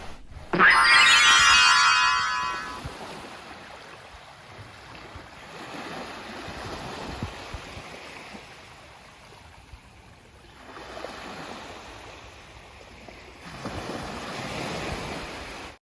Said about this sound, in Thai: ตอนเช้าเราก็ตื่นมาฟังเสียงคลื่นกระทบฝั่ง